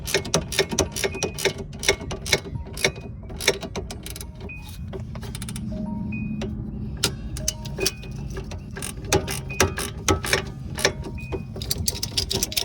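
Ratchet clicking in repeated short bursts while tightening a strut or stabilizer link bolt on a Pontiac G6 GT front suspension, close and fairly loud over a low background hum, with no speech.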